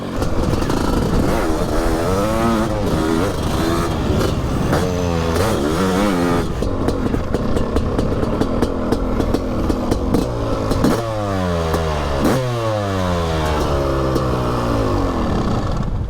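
A 2022 Honda 500 CR motorcycle, kick-started, revs loudly and close by. The engine pitch climbs and falls in repeated throttle blips over a rough, rattling idle.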